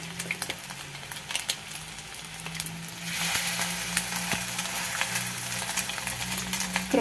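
Chicken patties sizzling in hot oil in a small frying pan, a steady crackling fry that swells louder as more batter hits the oil, with occasional scrapes of a spoon pressing and shaping them.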